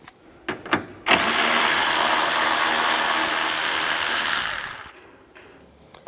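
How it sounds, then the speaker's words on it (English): Panel bolts on a 2004-2009 Toyota Prius come out with a 10mm socket: a few clicks, then a loud steady whirring power-tool run of nearly four seconds that stops abruptly. "I'm going to remove these bolts on both sides for this panel. Use a 10mm socket."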